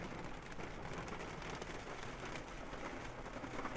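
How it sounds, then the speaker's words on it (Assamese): Rain falls steadily on open ground at Mendi Pathar, a soft, continuous hiss of drops with no voices. "বৰ্তমান ইয়াতে বৰষুণ দি আছে, এইটো দেখুৱাই আছোঁ বৰষুণ কেনেকৈ দি আছে।"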